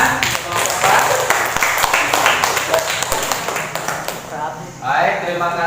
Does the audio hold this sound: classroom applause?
yes